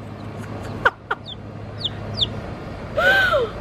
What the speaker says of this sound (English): Oh, that one might be a rooster, honestly.